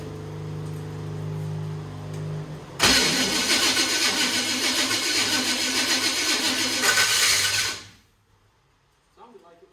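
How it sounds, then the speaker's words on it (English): A Chevrolet C10 engine cranks hard for several seconds, a loud continuous starter churn that fails to catch and then cuts out, leaving near silence before a faint noise. "Shall probably take some cranking to get fuel in."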